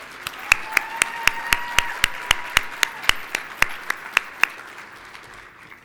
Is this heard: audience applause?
yes